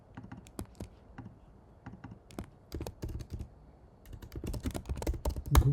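Rapid, irregular keystrokes on a computer keyboard, heard up close with no talking; a flurry of taps grows busier and louder toward the end.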